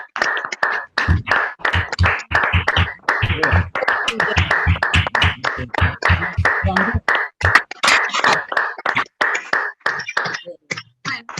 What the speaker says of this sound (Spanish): Es la primera vez que hay aplausos después de una charla.